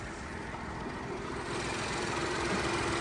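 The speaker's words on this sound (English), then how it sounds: "the three-cylinder ticking away" A three-cylinder 1.5 engine in a 2016 Mini Cooper idles with the bonnet open, a quiet, steady low rumble with a faint ticking texture and a high whine above it, heard close and without talk.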